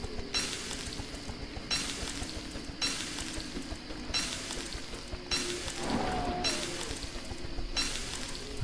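Food cooking over a campfire in the video game Don't Starve, a continuous crackling sizzle that swells in regular, evenly spaced pulses throughout; no talking.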